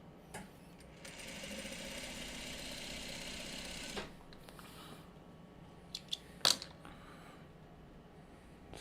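A sewing machine stitches a quilt block in a steady whir for about three seconds, then stops, followed by a few faint handling knocks and clicks nearby.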